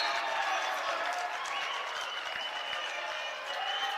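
Basketball crowd at a college men's game, Alaska vs. Saint Martin's, roaring and applauding after a blocked shot, a dense sustained wash of cheering that stays loud and even throughout.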